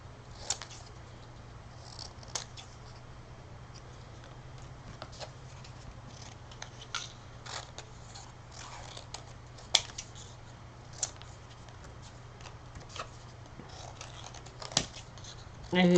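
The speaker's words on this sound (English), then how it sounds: "And then I will get into the nooks and crannies with the smaller scissors." Small scissors snip through paper while fussy cutting during a home crafting session, giving soft, irregular clicks and slices against a steady low background hum.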